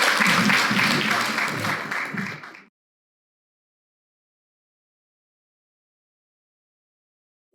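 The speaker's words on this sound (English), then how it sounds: "Now give yourselves a round of applause again" Audience applause at an HIV advocacy speaking event, a dense burst of clapping that fills the room for about two and a half seconds and then cuts off abruptly into silence.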